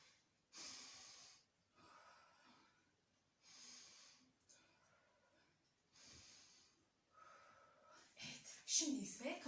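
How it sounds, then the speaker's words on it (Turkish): A group of five-year-olds at a nursery does a breathing exercise, breathing in through the nose and blowing out through the mouth in several soft, evenly spaced breaths. "burnumuzdan nefes alıp ağzımızdan 3 kere veriyoruz"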